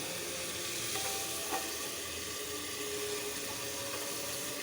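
Bottle gourd goes into a pan of small prawns already fried in curry spices, setting off a steady, moderately loud sizzle with a couple of light stirring clinks and no voices.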